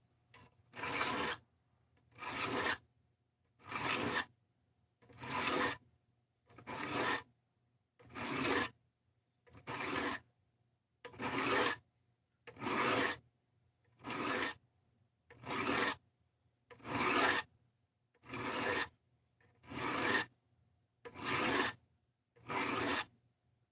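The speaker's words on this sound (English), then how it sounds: "Widen this bevel out just a little more and they should match." Hand file rasping along a knife bevel on an inexpensive blade, about fifteen even strokes in a steady rhythm, each a bright scraping burst with short pauses between, close and clear with no talking.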